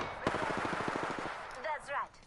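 A rapid burst of automatic fire in a shooter video game rattles close and loud for about a second, followed by short voice snippets.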